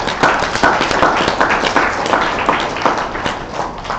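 Panel discussion audience giving the moderators a round of applause: close, fairly loud uneven clapping with individual sharp claps standing out over a busy wash of hands.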